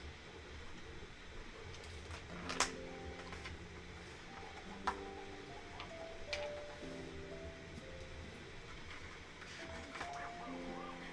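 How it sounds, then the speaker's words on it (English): A 3D printer runs steadily through the whole stretch, a continuous mechanical hum with stepper-motor tones and occasional sharp clicks, moderately loud and near, with faint talk at the edges. "does that reduce the printer sound without reducing me too much?"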